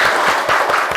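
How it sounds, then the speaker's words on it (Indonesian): Classroom of children clapping together after an ice-breaking game, a dense, steady patter of many small hands filling the short stretch with no talk over it. "Tepuk tangan buat kalian semua"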